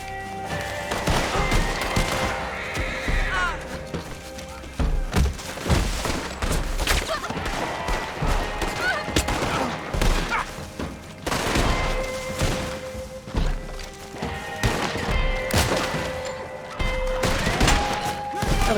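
Rapid gunfire fills a Red Dead Online shootout, with dense, loud volleys of shots and thuds pounding almost continuously over the game's background sound.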